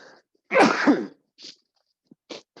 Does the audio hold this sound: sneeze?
yes